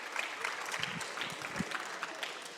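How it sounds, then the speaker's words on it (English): Faint scattered applause from a small orientation audience, light brief clapping with a few louder claps, heard from a distance. "Give a round of applause."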